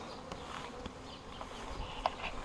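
Bees buzz around a hive during possible mating flights, a dense, steady hum of many insects close by with individual bees flitting past, fairly faint and with no talking.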